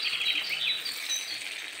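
Chicken pieces sizzle in hot oil in a pan while being stirred for chilli chicken, a steady bright hissing crackle close by with no voices.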